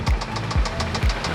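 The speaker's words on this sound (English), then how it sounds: "But it does have a lot of knock, not as bad as that one." Spun bearing in a Subaru Impreza engine knocking in a steady, heavy rhythm of about two strikes per second, loud and close, with no talk over it.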